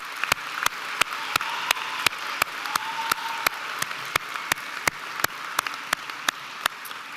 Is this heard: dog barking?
no